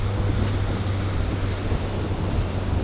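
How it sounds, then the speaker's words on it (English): Strong wind on a Florida Gulf Coast beach roars steadily and loudly across the microphone, a dense continuous buffeting with a low rumble underneath and no voices. "it's windier than I thought it was"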